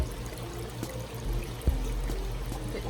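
Water pumped back into an all-in-one aquarium pours and trickles steadily, with a low pump hum underneath and no talking.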